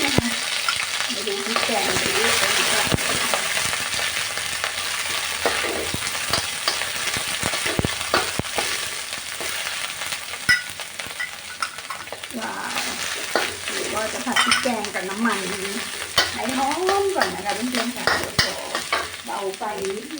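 Steady sizzling and scraping of curry paste being stirred and fried in a hot pan, continuous throughout.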